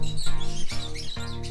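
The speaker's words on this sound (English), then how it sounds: "It's a lovebird." A lovebird gives a series of short, close chirps in a quick repeated rhythm, loud and alone.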